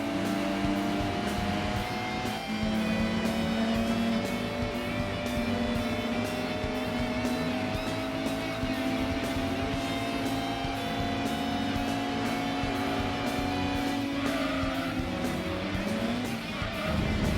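Race cars in a racing video game, several engines droning and shifting pitch continuously at close range, with occasional tire noise and no voices.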